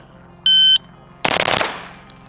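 A 9mm submachine gun fires one short, loud burst outdoors, preceded by a brief electronic beep; the rapid shots blur together and then ring out in a fading echo.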